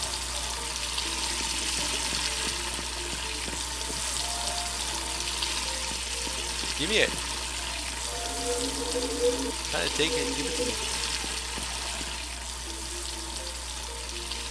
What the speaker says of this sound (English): Now the water's flowing.